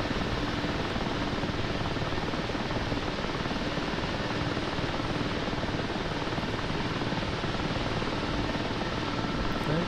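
Helicopter in the Digital Combat Simulator game coming down to land, its rotor and engine giving a steady, loud, dense roar that holds unchanged throughout with no voices.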